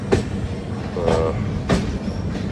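Rajdhani Express train pulling into Panvel station, a steady close rumble of the carriages with rhythmic clacks over the rail joints and a brief squealing tone partway through.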